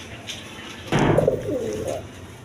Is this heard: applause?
no